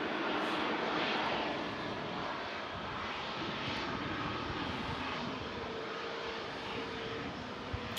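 An Airbus A320neo airliner arriving from Istanbul at Manchester Airport makes a steady, distant engine roar that fades gently as the aircraft slows, heard alone with no talk.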